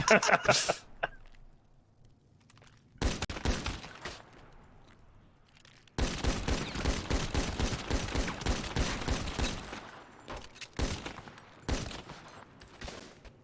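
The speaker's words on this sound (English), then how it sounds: "I'm gonna shoot you in the head now" Rapid bursts of gunfire in GTA NoPixel roleplay, a short burst early then dense sustained volleys of shots, fairly close, with a voice talking at times.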